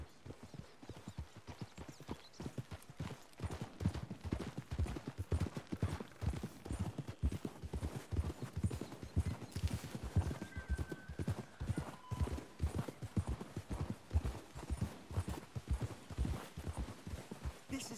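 Horses' hooves clip-clop steadily in a dense, rhythmic walking gait throughout, close and fairly loud, with a brief faint whinny partway through, set in the Red Dead Redemption 2 game world.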